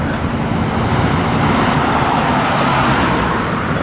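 Steady roar of traffic on a Maryland road, with cars rushing past continuously and loudly in the open air.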